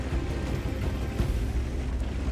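An artillery shell bursts near a tank in a tank battle game, giving a dense, rumbling boom that rolls steadily through the whole moment with no voices.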